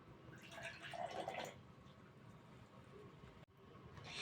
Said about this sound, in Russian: Для начала мы наливаем 5 столовых ложек воды.